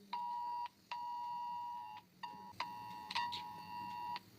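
Government of India emergency alert tone sounding from an Android mobile phone: loud, steady electronic beeping in long on-off bursts, with a few brief gaps, close and alone.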